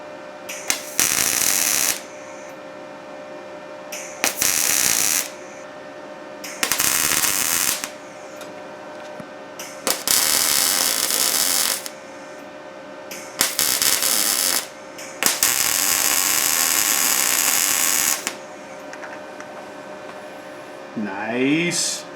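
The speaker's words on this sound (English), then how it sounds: "when I start welding, it's going to want to, burn through those edges" MIG welding on the front suspension of a 1968 Mustang fastback, heard as six loud, close bursts of harsh crackling sizzle, each lasting one to three seconds, with quiet gaps between the short tack welds.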